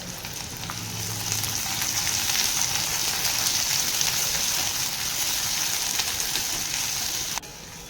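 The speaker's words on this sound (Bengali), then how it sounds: "সাথে দিয়ে দিচ্ছি পেঁয়াজ, কাঁচা লঙ্কা, ভালো করে একটু নাড়াচাড়া করে নেব।" Onions and green chillies with whole spices like bay leaf and cinnamon fry in hot oil, a loud, steady crackling sizzle that runs throughout with a brief low clink near the start.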